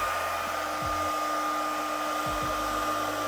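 A hair dryer blows with a steady, loud whoosh and a constant motor hum, running alone with no talking, powered by an Anker SOLIX F2000 portable power station.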